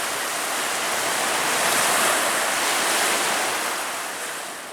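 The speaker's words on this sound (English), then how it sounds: "Okay, I'm giving this little baby a wash." Thames river water rushes and splashes steadily and loudly as a mudlarking find is washed close to the microphone, a dense continuous wash of water noise with no talk.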